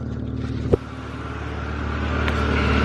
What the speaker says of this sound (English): I do have an exhaust leak though from that muffler.